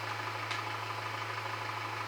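A Kramer tractor engine idles in the farming game Farming Simulator 2013, giving a steady, even low hum that continues unchanged, with no talk.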